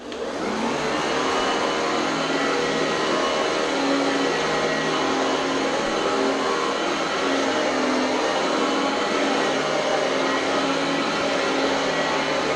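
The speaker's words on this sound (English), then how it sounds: "I don't know how good the vacuum's gonna do on the carpet here." An Oreck Elevate Conquer upright vacuum cleaner runs continuously on household carpet, a loud, steady motor whine held close up with no speech.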